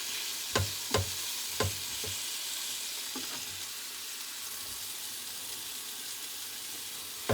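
Peeled apple slices fry in a pan with a steady, close sizzle, broken early on by a few sharp clicks and taps, probably a utensil touching the pan. There is no talking.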